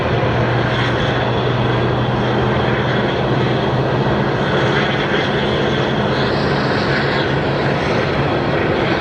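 Airliner departing Phoenix Sky Harbor Airport, a loud, sustained jet engine roar with broad rumble and hiss that holds steady throughout, close and powerful.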